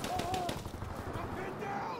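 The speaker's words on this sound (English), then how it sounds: "I'm just shooting at nothing here." Gunfire in the Call of Duty video game, rapid repeated shots with distant battle noise, fairly quiet and steady throughout under a low background rumble.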